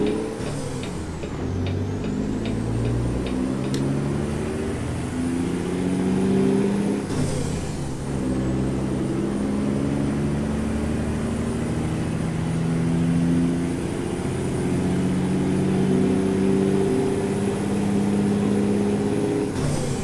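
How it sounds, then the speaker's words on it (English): A dump truck rolls through in American Truck Simulator, its diesel engine droning and climbing in pitch through several gear changes, with a hiss of air brakes early on and a steady, moderately loud rumble throughout. "I think we'll let this dump truck go on through."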